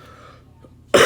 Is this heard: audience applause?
no